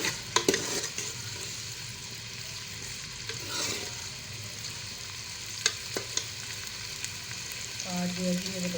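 Onions fry in a pot over raised heat for a potato and meat curry, with a continuous soft sizzle and scattered scraping clicks as a spoon stirs them. Faint voices occasionally come through.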